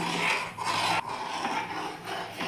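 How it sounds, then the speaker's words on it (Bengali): A ladle scrapes and rubs through boiled milk in a karahi while making paneer, a continuous close-up swishing scrape with small shifts in stroke, with no voices. "এবার হাতা দিয়ে একটু নাড়াচাড়া করছি"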